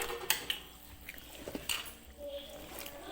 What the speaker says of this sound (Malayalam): അപ്പം നമ്മൾ ഇതുപോലെ നന്നായിട്ട് ഇളക്കി കൊടുക്കണം.